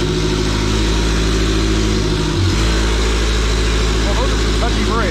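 Fiat 500 Abarth MultiAir engine running in a close, loud steady drone, with a brief dip in revs partway through before settling back to a constant hum, and faint chirps near the end.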